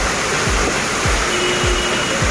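Heavy rain pours down in a steady loud hiss, with a few faint low thumps recurring underneath.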